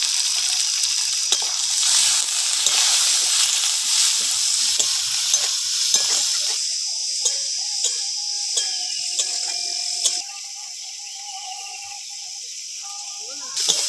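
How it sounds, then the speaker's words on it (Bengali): Pond prawns coated in salt and turmeric fry in hot oil with a steady, bright sizzle, overlaid by occasional scraping stirs; the sizzle eases and turns quieter in the second half. "চিংড়ি মাছ ভেজে নিয়েছি"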